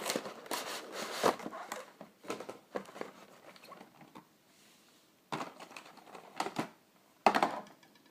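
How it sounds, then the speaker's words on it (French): A small knife scrapes and slices through tape on the box of a Drax Eaglemoss figurine, with bursts of crackly scratching and rustling cardboard separated by short quiet gaps, close and fairly faint. "Toujours mis du petit couteau pour couper les scotch."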